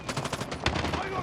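Rapid bursts of automatic gunfire in a shooter video game, a dense run of loud shots with one sharper crack partway through, filling the whole moment without a break.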